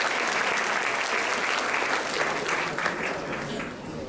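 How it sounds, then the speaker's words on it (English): An audience at a school student-recognition ceremony breaks into loud, sustained applause, a dense wash of clapping that stays full and even from start to finish. "Please, a round of applause for Reem Abalala."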